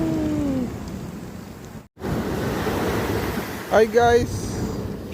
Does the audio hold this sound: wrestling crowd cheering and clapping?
no